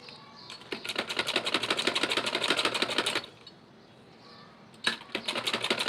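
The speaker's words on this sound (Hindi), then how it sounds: "जिस तरह से हमने ऊपर तक दूसरी साइड पे सिलाई लगाई थी ना, उसी तरह से हम यहाँ पर भी ऊपर तक सिलाई को लेके जाएंगे।" Sewing machine stitching up a neckline seam with a drawstring loop design, a steady rapid needle rattle running in two bursts separated by a short pause, close and alone.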